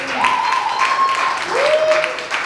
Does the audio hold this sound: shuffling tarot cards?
no